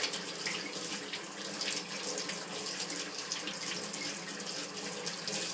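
Very hot tap water runs steadily into a sink as items are rinsed off. The stream is fairly quiet and close, with an even hiss and small splashy fluctuations and no voices.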